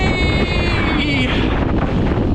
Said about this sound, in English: I knew it was going to be windy. Not this windy.